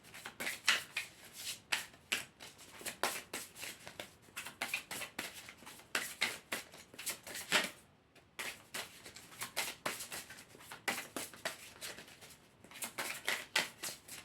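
Tarot cards are shuffled close up for a reading, giving a quiet run of crisp riffling and slapping bursts with a brief pause partway through and no talking.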